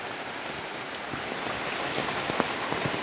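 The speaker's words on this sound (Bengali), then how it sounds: "এই দেখেন কি পরিমাণ বৃষ্টি হইতেছে। আসলে টিনের ঘরে যখন বৃষ্টি হয়" Heavy rain pours down in a dense, continuous hiss, with sharper drops tapping on a tin roof.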